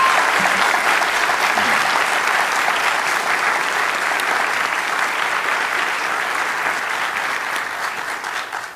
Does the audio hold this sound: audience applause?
yes